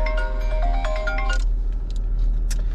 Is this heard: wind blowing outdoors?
no